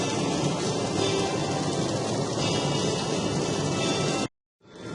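Heavy rain drums steadily on a car driving through Hokkaido in foggy weather, a loud, continuous wash that cuts off abruptly near the end, then fades back in.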